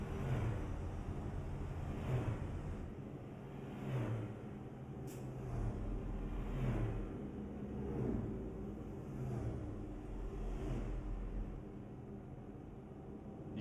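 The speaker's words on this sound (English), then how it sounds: "You can really hear the cars go by when you got the engine way back there in the back." In American Truck Simulator, cars swish past a rear-engine Volvo 7550 bus leaving Key West, several passes rising and fading in turn over a steady low engine drone.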